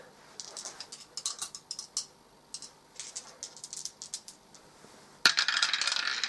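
Two dice rolled during an Eldritch Horror board game: a quick run of small hard clicks and rattles on a tabletop lasting a few seconds, fairly faint and close, with no talk, followed by a sudden louder burst of noise.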